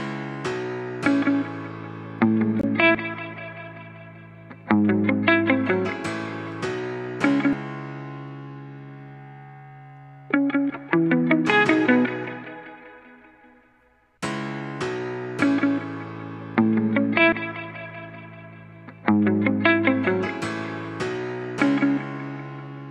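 Plucked guitar notes ring over sustained chords in a steady, repeating looped hip-hop beat pattern, with a brief pause midway before the loop resumes.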